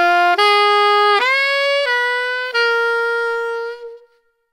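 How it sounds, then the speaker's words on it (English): A solo saxophone slowly plays the short closing third phrase of the bridge, four sustained notes moving downward in steps, the last held long and gradually fading away. "the last piece of music we have to learn is phrase three of the bridge, which is the short ending, and it sounds like this, played slowly."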